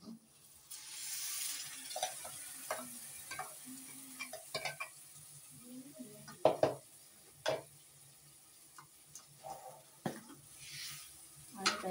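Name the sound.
masala paste frying in pan for Malvani egg curry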